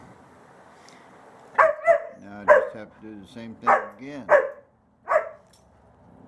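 A dog barks and yips in short bursts close to a workshop where a 1929 Chrysler 360 is being worked on, about six sharp barks spaced irregularly, with someone speaking over them.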